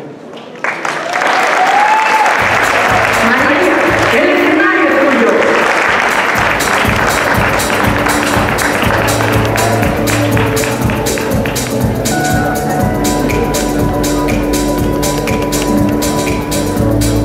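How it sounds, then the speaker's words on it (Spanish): Audience at a CIMORT Day talk applauds loudly and steadily as María, a Venezuelan speaker, is welcomed to the stage, with a voice announcing her over the clapping. "Recibamos con un aplauso a María."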